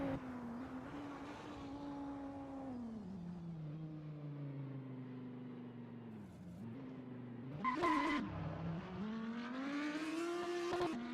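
A GT3 race car storms through the fast Blanchimont corner at Spa, its engine note sweeping down and then climbing hard, with a brief tyre squeal around the middle before it pulls away loud and close.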